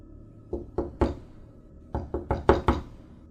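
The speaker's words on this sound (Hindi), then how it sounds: "तभी उसे किसी के दरवाज़ा खटखटाने की आवाज़ आती है।" Two bursts of sharp knocking on a door, three knocks then a pause, then five quicker knocks, close and crisp.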